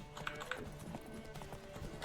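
Horse hooves gallop at an even, rapid clip-clop in The Witcher 3: Wild Hunt, faint and steady beneath a low game-world ambience.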